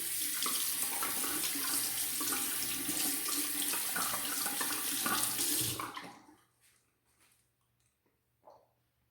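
A Schick Extreme 3 razor gets rinsed under a running tap during a head shave, a loud close gush of water splashing in the sink that stops suddenly, followed by a faint tap or two.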